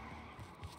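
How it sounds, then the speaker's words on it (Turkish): A brief engine or tire sound from a car in the game H1Z1 King of the Kill, low rumble with a couple of short bursts, fairly quiet and without talk. "Aa bak araba mı o? Araba sesi."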